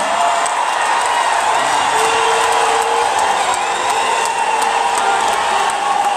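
A crowd gives sustained, steady applause mixed with cheering as Félix Tshisekedi, president of the Republic, is introduced at a formal event in Paris. The dense clapping fills the whole stretch with little letup.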